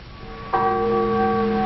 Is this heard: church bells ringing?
yes